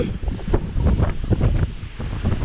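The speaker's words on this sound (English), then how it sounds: "So as you can tell, it's quite windy, very windy." Strong gusting wind outdoors buffets the microphone in heavy, uneven low rumbling bursts, loud and continuous with no voices.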